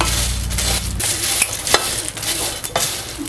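Chai masala spices dry-roasting in a kadhai, a steady dry rustle and light sizzle with stirring scrapes and small clinks of a spoon against the pan, close and continuous with no talk.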